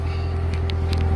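Supercharged C06 Corvette engine idling in sport mode, a deep steady low rumble heard from inside the car, with a few light clicks on top.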